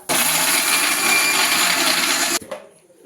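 A mixer grinder blends chutney with chilli and rock salt in one loud, close, continuous whir that cuts off sharply, leaving a faint rattle as the blades spin down.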